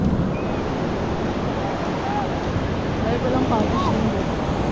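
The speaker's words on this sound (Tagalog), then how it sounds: "Malapit-lapit dito ang alon eh." Sea waves breaking and washing near a beach shore by damaged cottages, a steady loud roar of surf with wind buffeting the microphone, continuous throughout with no pauses.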